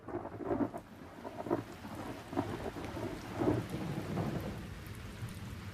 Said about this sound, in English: The rain fell. Hour after hour it rained.